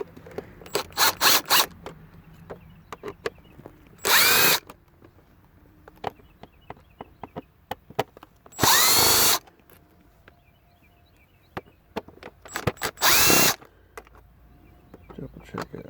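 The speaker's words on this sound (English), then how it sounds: "You're going to remove these 4 screws right here on the back." A power drill backs out four T15 Torx screws from the rear of a Ford Escape LCD screen, three short whirring bursts separated by quiet stretches with small clicks and handling noises between them.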